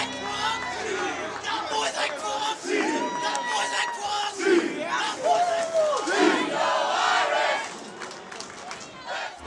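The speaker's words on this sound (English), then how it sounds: "The 233rd consecutive sellout crowd welcomes home Notre Dame" A sellout stadium crowd welcomes home Notre Dame with a sustained roar of cheering and shouting voices, swelling and surging throughout before easing slightly near the end.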